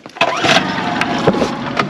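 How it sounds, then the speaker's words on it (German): A small boat motor on a narrow ditch cranks and catches, rising into a close, even mid-pitched running drone with a few knocks and clunks over it. "Ich muss den Motor wieder anmachen direkt."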